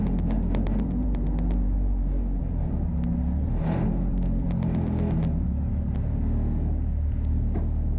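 A mini stock race car engine drones on a track at Riverhead, a continuous loud rumbling roar with whirring passes and brief revving surges, no one talking.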